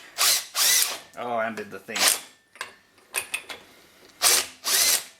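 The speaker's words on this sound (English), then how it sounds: "Where's the big drill?" A large power drill is used on an old military engine during a revival attempt. It whirs loudly in two short, close bursts at the start and end, with people talking in between.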